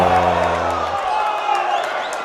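Basketball crowd at a high school boys game reacting to a foul call, a loud burst of mixed voices and shouts with a brief sustained tone at the start, fading into general crowd murmur.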